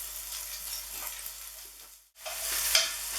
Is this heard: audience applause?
no